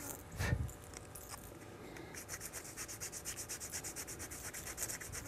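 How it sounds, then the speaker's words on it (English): Sandpaper rubs on a hand-carved wooden fishing lure, a quick scrape at first and then a steady run of rhythmic back-and-forth strokes, close and fairly quiet. "what I don't get with a knife, I try to get with a sandpaper."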